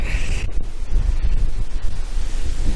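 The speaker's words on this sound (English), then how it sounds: "keep an eye on these awnings with these gusts of wind that are taking place at the moment" Gusty wind at a campsite with awnings pitched buffets the microphone in loud, uneven low roars, continuous with no voices.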